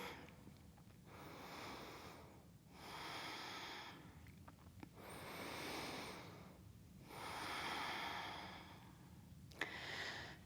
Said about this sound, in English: trying to forcefully deepen the breath and slow it down